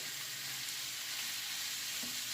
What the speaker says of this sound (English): put it in the pan